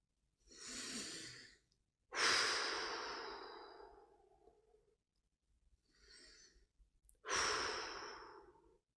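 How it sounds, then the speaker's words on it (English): Slow, deep breaths, close and soft: two paired cycles of a gentle inhale followed by a longer, breathy exhale, with brief silences in between. "Begin by taking a few deep breaths."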